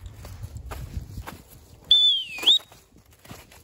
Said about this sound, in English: I can introduce my turn whistle just to get his attention.